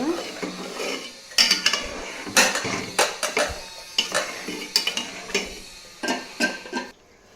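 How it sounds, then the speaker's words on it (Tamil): Spoon stirring milk into fish curry in a pot, a run of sharp metallic clinks and scrapes in irregular bursts, close and loud with a faint sizzle beneath and no talking. "இப்போது இந்த பாலை வந்து இது கூட கலந்துக்கலாம்"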